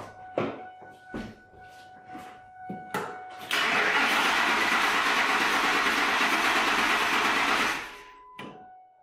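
Starter motor cranking an 8-cylinder engine: a few short clicks and bumps, then about four seconds of steady loud whirring crank that stops abruptly, followed by a couple of faint clicks.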